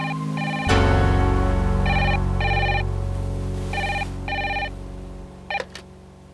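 A telephone rings in a home setting, repeated bursts of electronic double trills in a steady rhythm over a low hum, fairly loud and close, with no talk.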